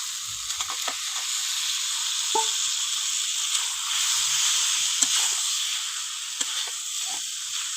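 Fried potatoes being stir-fried in spice masala for a katla fish and potato curry, a steady hissing sizzle throughout with occasional faint scrapes and taps of a spatula, close and even.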